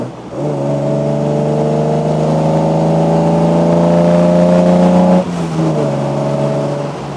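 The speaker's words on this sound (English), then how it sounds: "You get that nice 6-cylinder snort through the stainless steel tailpipe, and you get some good induction roar." A 1968 MGC Roadster's six-cylinder engine revs up loud and close through a stainless steel tailpipe with induction roar, pitch climbing steadily, then briefly dips at a gear change before pulling again.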